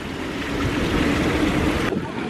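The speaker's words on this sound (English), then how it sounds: "And then there's this cool waterfall." An outdoor waterfall beside Moscone Center in San Francisco makes a steady, dense rush of falling water, loud and close, with no talking.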